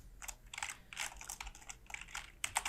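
Quick, light keystrokes on a computer keyboard, a continuous clatter of typing in short bursts while writing code, close and clear with no voices.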